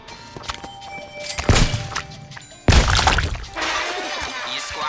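Fruit gets shot and squashed in the Shooty Fruity video game, with sharp splattering impacts in two loud bursts, the second bigger and followed by a sustained noisy wash, over quieter game sounds.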